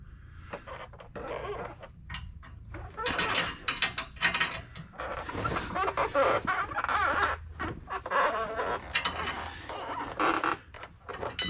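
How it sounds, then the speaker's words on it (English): Wrench or ratchet loosening the 21 mm nut and 18 mm bolt on a shock absorber of a 2017 Ford Super Duty, with bursts of clicking, creaking mechanical turning in close uneven spells separated by brief pauses. "So I've been cracking the nut loose, and then the bolt starts to spin after you get it loose"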